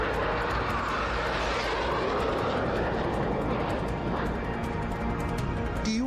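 A Tu-160 strategic bomber flies with its jet engines producing a continuous heavy drone and broad rushing roar that holds steady throughout, loud and fairly close, with a few faint clicks layered on top.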